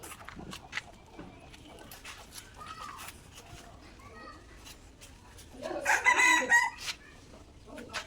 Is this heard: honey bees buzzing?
no